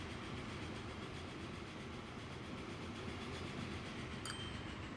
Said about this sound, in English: It was our last coal train.